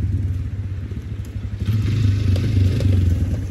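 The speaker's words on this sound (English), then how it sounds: "I'm on my four-wheeler" A four-wheeler ATV rides through cold December woods, its engine a steady, close low rumble with clattering and scraping over rough ground, growing slightly louder partway through.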